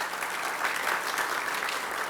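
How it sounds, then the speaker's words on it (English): An audience at a Highway 37 town hall meeting breaks into continuous applause, an even wash of clapping heard from some distance in the room. "let's give her a round of applause"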